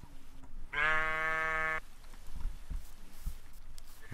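A tainted sheep in the game BlightFall lets out one loud, clear bleat lasting about a second, close by, followed by quieter in-game ambience and faint thumps.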